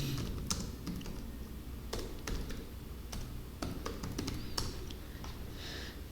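Computer keyboard typing during a statistics lecture: scattered, irregular keystrokes at close range, fairly quiet, with short pauses and no talking.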